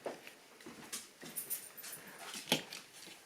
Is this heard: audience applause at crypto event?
no